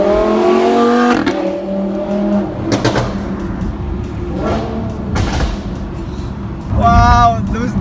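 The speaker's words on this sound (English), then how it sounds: "Wow, those downshifts are insane. It sounds so good." A Lamborghini fitted with a gold Fi exhaust downshifts, its engine revving up and down in blipping bursts with pops in between, loud and nearby, mixed with road and cabin noise.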